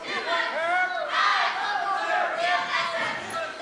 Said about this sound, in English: Saegertown fans are trying to cheer him on